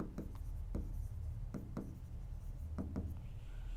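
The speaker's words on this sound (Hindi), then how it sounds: "यहां पे लिखता हूं मैं" Pen or chalk strokes scratch out a maths solution, a series of short, distinct taps and scrapes in an uneven writing rhythm, close up and fairly soft.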